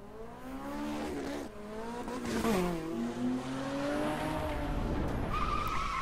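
A Ford GT in the racing video game The Crew skids with long squealing tire tones that bend in pitch over a continuous engine roar, loud and close with no talking.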